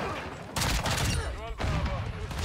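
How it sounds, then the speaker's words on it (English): Burst-fire gunshots from a weapon in the video game Modern Warfare II, coming as two sharp, loud volleys of rapid cracks separated by a short pause, with game noise and a faint voice underneath. "I actually really, really like doing this burst fire mode thing."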